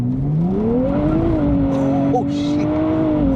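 A 2024 Nissan Z Nismo with automatic transmission launching hard under launch control, its engine roaring and rising in pitch up close, tires squealing briefly midway through the pull.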